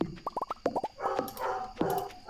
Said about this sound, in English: What is your dog angry about?